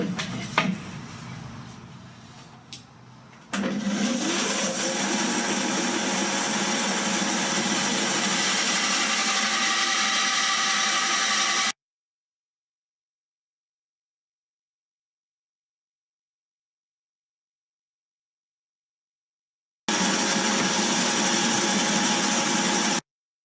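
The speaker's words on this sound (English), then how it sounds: "The main shortcoming of this bandsaw when it comes to resawing tall boards like this is that the fence is quite short." Bandsaw resawing a tall board for a multi-layer guitar top: a steady, fairly loud machine drone runs for several seconds after a quieter start, cuts out to silence, then returns briefly at the same level.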